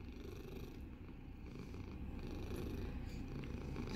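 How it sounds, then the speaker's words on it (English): A male cat purrs steadily and up close while resting on a lap, a continuous low rumbling throb with no voices over it. "has a great purr"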